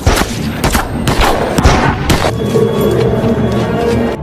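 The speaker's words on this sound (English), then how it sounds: "so the snipers shot him" Loud gunfire from snipers in a film cracks out as a quick burst of several sharp shots, then gives way to a ringing, droning tail with no speech.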